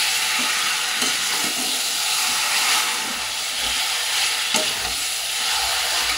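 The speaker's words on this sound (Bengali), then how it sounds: "মশলাটা একটু কষে এসছে, এবার চিকেনটা যে মেখে রেখেছিলাম সেটা এবার এক এক করে দিয়ে দেবো।" Marinated chicken pieces going into a frying spice masala, a loud, dense, steady sizzle and hiss with faint stirring knocks, close and continuous, no voices.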